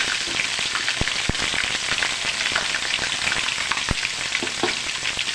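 Ginger paste frying in a pan for bitter gourd chutney, a dense, steady crackling sizzle up close, punctuated by a few sharp clicks of a spatula against the pan, with no speech.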